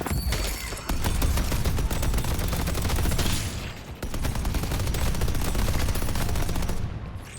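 Turret gunfire in a video game: dense, sustained rapid-fire bursts pound loudly and almost without pause, with two brief dips in the barrage, and no voices heard.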